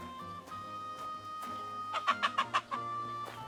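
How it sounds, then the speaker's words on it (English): A hen in Kingdom Come: Deliverance II clucks in quick bursts while being chased, a rapid run of sharp clucks in the middle over a low steady background hum. "Look at him chasing the hen."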